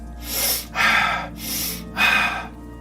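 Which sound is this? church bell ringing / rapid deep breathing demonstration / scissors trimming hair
rapid deep breathing demonstration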